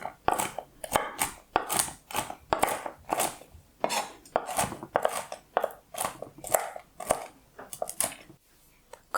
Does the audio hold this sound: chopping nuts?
yes